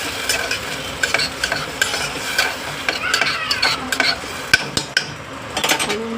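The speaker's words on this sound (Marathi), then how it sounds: "आणि ह्यांना मस्त हलवायचे" Food with rice is stirred in a frying pan, a spoon scraping and knocking against the metal in quick irregular strokes over a constant close sizzle, with no talk.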